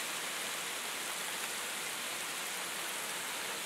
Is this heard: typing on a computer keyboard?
no